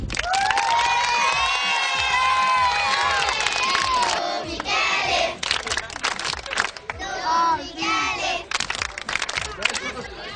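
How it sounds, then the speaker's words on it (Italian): A crowd cheers and shouts loudly and steadily for a parish priest, with excited high voices, then the noise breaks into bursts of cheering mixed with talk. "Un applauso al parroco."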